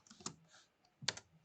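Typing on a computer keyboard, with two short clusters of quick key clicks separated by a pause. The clicks are quiet and close, with no talk.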